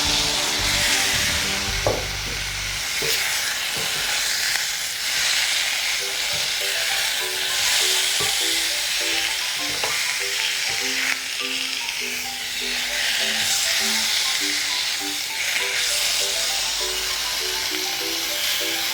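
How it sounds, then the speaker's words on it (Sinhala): Kelawalla tuna pieces fry in a spiced mixture in a pan, giving a loud, dense, continuous sizzle with occasional clinks and stirring scrapes throughout. "මේ විදිහට කලවම් කරගෙන අපි මාළු කෑලි ටික දාගමු"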